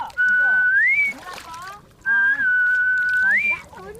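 A Korean haenyeo diver whistles as she surfaces: two long, piercing breath whistles, each held steady and then sweeping upward at the end, with a short pause between them and some voice and water sound underneath.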